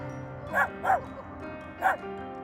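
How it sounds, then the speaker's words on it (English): A dog barks excitedly beside a home near the West Nipissing section of the Trans Canada Trail in Ontario, giving three sharp, fairly close barks spaced over a couple of seconds against a steady low background hum. "our path intertwines with that of a couple stepping out of their home to investigate the source of their dog Billy's excited barks."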